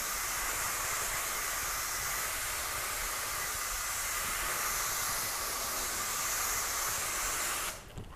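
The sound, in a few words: spray bottle misting sealant over car panel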